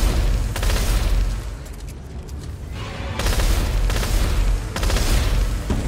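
Rapid bursts from a plasma cutter weapon in the sci-fi horror shooter Dead Space 3, loud repeated volleys in several waves with brief lulls between them, no talking.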